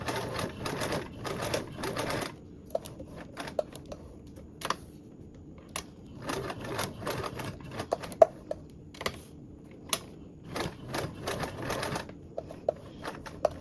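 A sewing machine stitches webbing onto a toiletry bag in rapid bursts of mechanical chatter, stopping and starting several times with short quiet pauses between runs.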